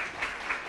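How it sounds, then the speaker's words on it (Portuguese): Audience applause at a mayoral candidates' debate in Mafra, Santa Catarina, a brief burst of steady crowd clapping with no talk over it. "Uma salva de palmas ao Carlinhos."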